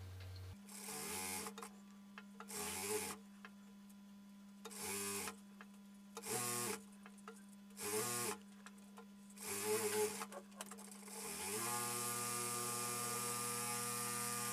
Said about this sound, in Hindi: बड़े ही आराम से सिलाई चलाइए ताकि किनार की आए